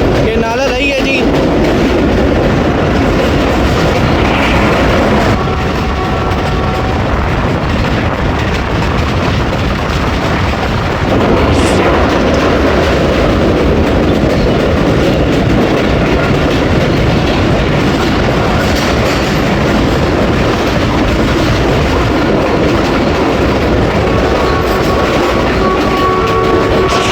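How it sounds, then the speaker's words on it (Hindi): The 48 Down Rehman Baba train rolls past Marine Chowk on the Rawalpindi to Wazirabad route, a loud, steady rumble of wheels and carriages lasting throughout with a few faint clicks and squeals. "मरीन चौक से पास हो रही है ट्रेन।"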